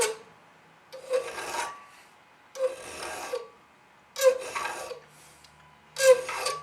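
A file rasps across the stamped steel pan of a trap in four separate, close bursts of scraping strokes, each short group of strokes followed by a pause.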